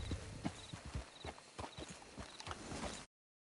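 Horse hooves clip-clopping in a PS4 video game, a steady rhythmic trot of many clear hoofbeats over about three seconds, close and moderately loud, ending abruptly.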